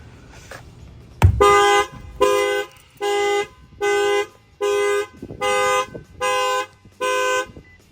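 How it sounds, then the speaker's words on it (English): The factory alarm of a 2025 Lexus RX350, triggered through an added shock sensor, blares in a rapid series of eight evenly spaced horn honks, loud and close, right after a sharp thump. "You'll see that the alarm's going to go off."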